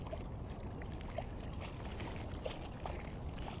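Quiet splashing and dripping of a paddle moving an Oru kayak through water, soft intermittent strokes over a low watery background with no talking.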